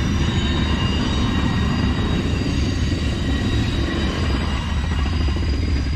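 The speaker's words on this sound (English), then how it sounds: "Watch out for trains crossing." A train rumbles loudly and continuously past at a crossing near a power station, with a heavy low roar and faint wheel squeal throughout, and no talking.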